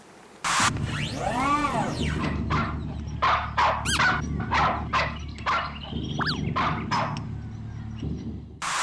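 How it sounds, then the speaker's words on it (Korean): A dog barks repeatedly and loudly at close range, a rapid run of sharp barks mixed with yips and a rising whine over a low rumbling background. "보면 개가 짖습니다."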